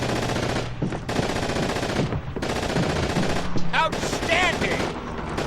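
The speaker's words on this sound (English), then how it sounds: "Now we have to take out that machine gun." Machine-gun fire in the World War II shooter Call of Duty 2, a steady loud barrage of rapid gunshots with battle noise running through the whole stretch, with no talk.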